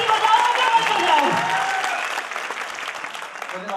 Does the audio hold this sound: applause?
yes